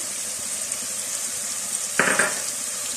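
Tomato paste sizzling in a pan with garlic and ginger, a steady low frying hiss with a brief louder burst of sizzle near the end, likely as the paste hits the hot oil; no talking.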